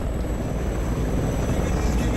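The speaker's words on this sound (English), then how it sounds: "Wait, this helicopter's new." A helicopter in an animated Skibidi Toilet episode gives a continuous loud, dense rotor and engine roar, steady throughout with no break.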